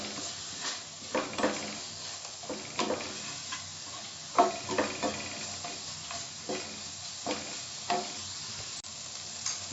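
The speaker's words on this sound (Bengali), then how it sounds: "মশলাটা কষে নেব।" Spices for Punjabi dal tadka frying in a pan with a steady sizzle, while a spoon stirs and scrapes in irregular clicks and knocks, close and fairly quiet with no talking.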